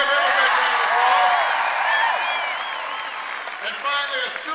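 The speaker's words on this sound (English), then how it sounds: "Give him a big round of applause." A rally crowd at Colorado State University applauds and cheers for Congressman Ed Perlmutter: dense, loud clapping with whoops, fading slightly toward the end.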